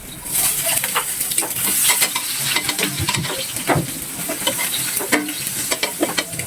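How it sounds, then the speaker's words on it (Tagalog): Ginger sautés in a pan, with steady sizzling and frying, and the food is stirred now and then with scraping clinks. "igigisa na natin sa pan yung luya"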